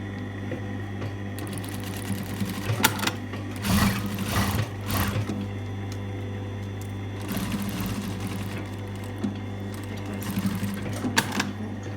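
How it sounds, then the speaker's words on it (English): A sewing machine runs in steady bursts as it stitches across the top of a jetted pocket with a flap on a garment, a close, continuous mechanical whir with short pauses and no talking. "now I'm going to stitch across the top"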